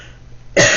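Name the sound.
woman coughing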